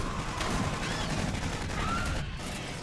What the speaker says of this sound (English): Those incendiary rounds are amazing.